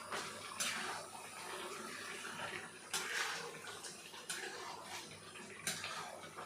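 Meat cooking in a pan gives a faint, steady hiss, broken by soft scraping strokes as it is stirred now and then, with no talking.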